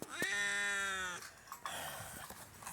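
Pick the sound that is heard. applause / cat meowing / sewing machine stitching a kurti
cat meowing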